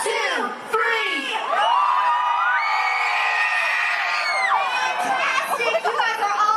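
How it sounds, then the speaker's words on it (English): Audience team at a Disney show with Mike Wazowski screams together on cue: a loud, sustained crowd of children and adults shrieking and cheering for several seconds, then tapering into scattered shouts. "I want to hear big green team scream on 3."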